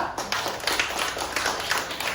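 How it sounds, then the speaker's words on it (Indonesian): A class of children clapping for a student group, a short burst of brisk, slightly uneven hand claps from a small crowd, close and moderately loud. "tepuk tangan dulu untuk kelompok 2"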